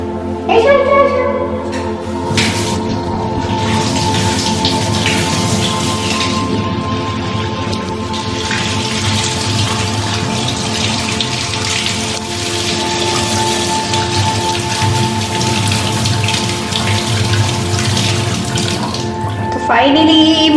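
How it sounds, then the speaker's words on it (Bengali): A fish head being washed under a running kitchen tap, a steady loud rush of water splashing over it that lasts nearly the whole time before cutting off near the end, with no speech over it. "এবার আমি মাথাটাকে ভালো করে ধুয়ে নিই"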